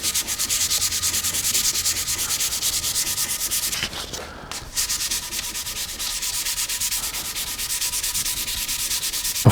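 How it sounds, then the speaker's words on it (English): Steady back-and-forth sanding with 220 grit sandpaper on a varnished guitar body, a close, continuous abrasive rubbing that pauses briefly midway before resuming at the same pace. "I'm just going to take some 220 grit sandpaper and sand that spot nice and smooth"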